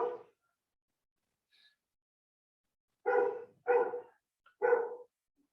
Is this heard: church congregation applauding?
no